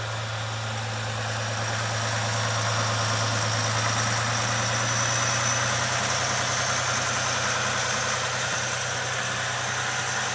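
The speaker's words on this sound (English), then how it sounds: "I love how they put a factory high idle on these, so on a cold morning it'll warm up faster." Jeep Gladiator EcoDiesel engine holds a steady factory high idle on a cold morning, a loud, continuous diesel drone with a constant low hum and no talk.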